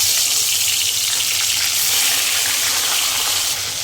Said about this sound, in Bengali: প্রথমে আমি মাছটা একটু হালকা করে ভেজে নেব।